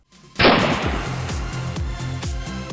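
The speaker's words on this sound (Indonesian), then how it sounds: "ledakan dihasilkan karena tidak ada udara di mesin khusus ini" A glutinous rice popping machine bursts open with one loud, booming blast, followed by a long rushing, hissing release with rhythmic thumps as the puffed rice spills out.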